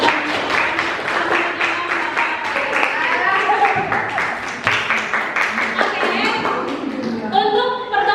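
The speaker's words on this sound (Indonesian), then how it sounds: "Tepuk tangan dulu untuk kuliah." Classroom applause breaks out after a lecture, a spread of quick claps running for several seconds while voices continue over it.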